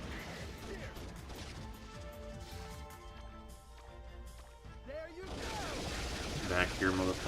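Doctor Doom's missiles explode in a video game as a busy run of crashing, gunfire-like blasts and impacts over a dense game soundtrack, with louder bursts near the end.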